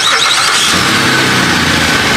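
A push-button start on a car, likely a Kia Cadenza sedan: a loud engine catching and settling into a steady idle close by, the roar filling the short clip without talk.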